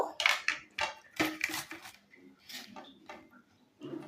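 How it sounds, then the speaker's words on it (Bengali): Onion rubbed against a kitchen grater, giving a series of rough, scraping rasps in short bursts with brief pauses, close and fairly quiet, with no talking. "একটা গ্রেটারের সাহায্যে আমি পেঁয়াজটাকে গ্রেট করে নেব।"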